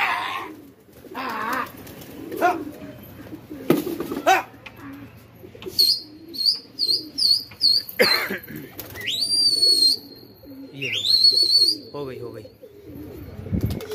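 Pigeons released by a pigeon keeper cooing and calling, with bursts of chirps and sharp rising whistles among scattered voices and background noise.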